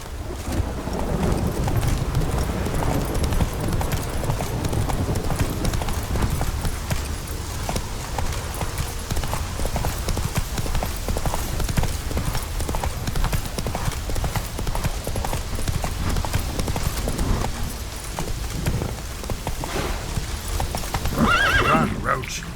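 Hooves of Roach, Geralt's horse in The Witcher 3: Wild Hunt, pound in a steady galloping rhythm with wind rushing past and a whinny near the end, while a voice speaks over the run.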